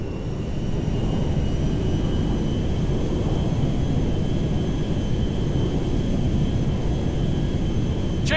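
Meriwether jet in flight in GTA V, a steady loud engine roar with a faint high whine holding evenly throughout, with a brief sharp sound at the very end.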